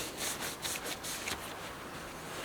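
A rag wiping oil off a metal engine part from an LS-swapped S10 pickup, heard as a few soft, close rubbing strokes with a light rhythmic swish.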